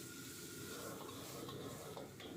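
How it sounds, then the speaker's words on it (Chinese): Tomatoes with garlic and tomato ketchup are stir-fried in a hot wok for braised eggplant, giving a steady, close hiss and sizzle with light stirring scrapes near the end. "接着下入西红柿，翻炒几下"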